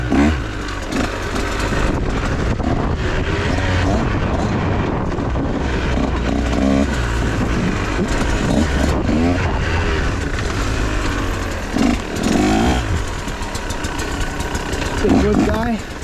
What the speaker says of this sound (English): back on the dirt bike.